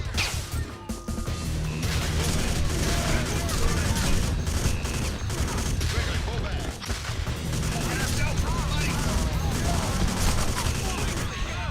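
Dense rifle gunfire and crashing impacts fill a firefight in the video game Alpha Prime, sustained and loud, with bursts overlapping under occasional voices.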